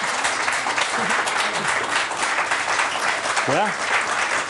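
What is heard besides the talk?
audience applause in a cooking show studio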